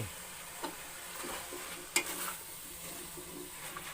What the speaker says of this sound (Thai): นี่ครับคั่วกับน้ำกะทิไปเลยครับ